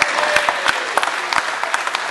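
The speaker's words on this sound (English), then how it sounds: "We just got a way bigger applause than you." Audience applause at a Guy Fieri cookout at the SEMA show: a crowd claps continuously and fairly loudly throughout, with scattered sharp individual claps and no talk over it.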